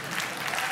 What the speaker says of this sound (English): You can clap for that if you